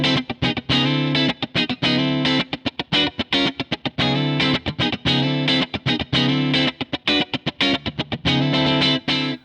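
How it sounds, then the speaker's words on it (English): Clean electric guitar tone from the tapped neck pickup, played through an Ampero Mini modeler, with chords strummed in a steady rhythm and sustained ringing notes, close and loud, no voices. "So I've got this set up for a pretty basic clean sound. Neck pickup tapped on this guitar now."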